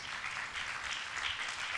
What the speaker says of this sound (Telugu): గట్టిగా చప్పట్లు కూడా దేవుని మహిమపరచు.